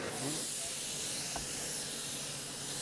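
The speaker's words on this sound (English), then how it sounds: "This is just a nice example of another application for spray foam" Steady, loud hissing spray runs continuously and close by, a broad rushing sound with no pauses.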